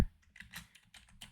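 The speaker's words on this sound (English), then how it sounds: "I'm going to start with a text and I'm just going to type" Fast, irregular keystrokes on a computer keyboard, a short close burst of clicks with tiny pauses between them and no talking.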